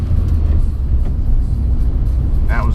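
VW Bug engine held at a steady low rumble through a manual gear shift, loud and close from inside the car, with a brief tonal squeak near the end.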